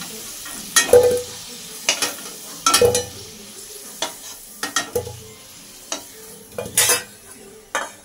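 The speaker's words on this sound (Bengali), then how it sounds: "তো এই তেলের মধ্যে প্রথমে নুন হলুদ মাখিয়ে রাখা আলুগুলো ভেজে নেব।" Potatoes rubbed with salt and turmeric fry in hot oil with a constant background sizzle, punctuated by loud, irregular clanks and scrapes of a utensil turning them in the pan.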